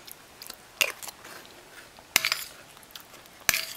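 Close bites and chews on a graham cracker that is going mushy but still has some crunch. Three distinct crisp crunches stand out, with softer chewing between them.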